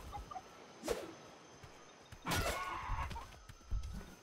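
Chicken in the Atlas video game, faint scattered clucks and squawks in a few short bursts over quiet background ambience, no talk.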